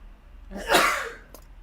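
A single sharp sneeze bursts out close by, followed by a faint breathy sound.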